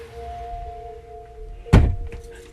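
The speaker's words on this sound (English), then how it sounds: "After the closet door closed on its own, Josiah bravely stepped inside to confront w" A closet door swings shut by itself with a single heavy thunk near the end, preceded by a low room hum and a faint electrical whine, no talking.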